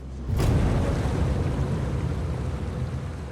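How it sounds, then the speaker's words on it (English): Broad, steady rushing of a river blocking a hiker's path in mountain country, a dense low roar that swells in after a brief quiet start and holds loud and close throughout, with no voices. "A river blocks his path, and Ken knows just how deadly this might be"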